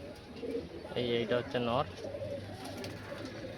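A pair of Andhra pigeons coo in short, rising calls close by, with someone talking over them and light background noise around.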